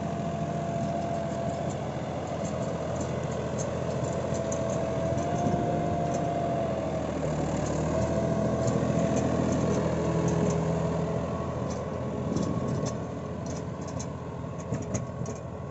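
A 4x4 tractor engine pulls in loose soil where it got stuck, running steadily and loudly throughout, a continuous mid-range rumble with a faint hum, strained under load, no talking.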